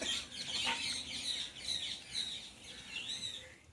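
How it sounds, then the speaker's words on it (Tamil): Birds chirping on a village morning at Pongal time, a continuous chorus of high tweets and calls at moderate distance, fairly lively and steady, with no one talking. "நல்ல பறவைகள் சவுண்டோட காலையிலே சூப்பராக மார்னிங் ஆரம்பிச்சிச்சு"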